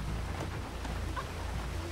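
Steady rain hiss with low thunder rumble in the video game Grand Theft Auto 5, a continuous wash of rainfall with faint distant thunder and no talk.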